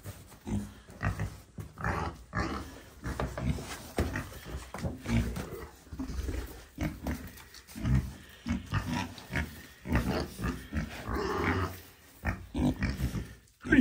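Pigs in a barn grunting and oinking; a continuous series of close, irregular snorts and grunts of varying loudness, with no talk over them.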